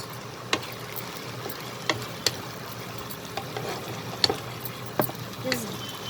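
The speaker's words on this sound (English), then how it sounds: "This will give it a quick stir." Ginger garlic paste and spices frying in a pan, with a soft constant sizzle broken by several sharp scrapes and clacks of a spoon stirring, moderately close and fairly quiet.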